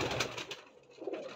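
A breeding pigeon gives a short, close coo, a soft low throaty call in two brief phrases with a quiet gap between them.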